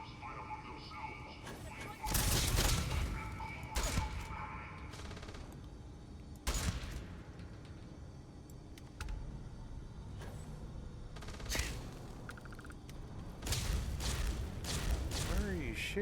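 Video game gunfire in an achievement-hunting session, bursts of shots and sharp cracks scattered across the clip among other game sounds and a talking voice.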